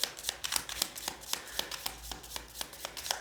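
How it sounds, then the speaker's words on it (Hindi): Tarot cards being shuffled by hand, a quick run of crisp riffling snaps repeating at a steady, brisk rhythm, close and clear with no talk. "यहाँ पे बहुत ज़्यादा कार्ड गिर गए हैं, इतने नहीं लेंगे हम"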